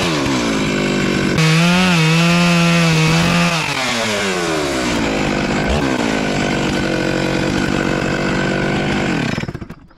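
Chainsaw mill cutting through a heavy redwood log, a loud close engine snarl that rises and bogs under load with shifting pitch, running steadily through the cut before cutting off at the end.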